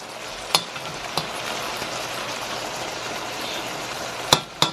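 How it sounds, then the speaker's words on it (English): Salted fish frying in a pan with a steady, close sizzle, broken by a few sharp clicks and taps from the pan. "So I'm gonna let this fry up."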